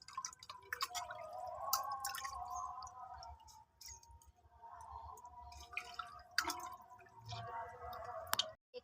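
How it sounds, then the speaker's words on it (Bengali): Chicken leg pieces are washed by hand in a bowl of water, with irregular splashes, drips and sloshing bursts close up, alone without talk. "দিদি ভালো করে লেগ পিসগুলোকে চিকেনগুলোকে ধুয়ে নিচ্ছে"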